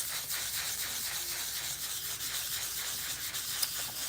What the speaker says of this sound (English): I'm gonna sand the back. That's just gonna prep my acrylic surface